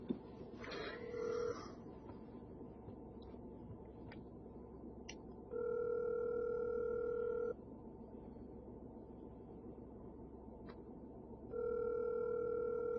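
Telephone line tones during a call: two long steady beeping tones a few seconds apart over a low background hum, with brief clicks in between and no talking.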